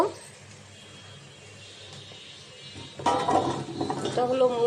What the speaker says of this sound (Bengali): আমি এখন তরকারিগুলো ধুয়ে নেব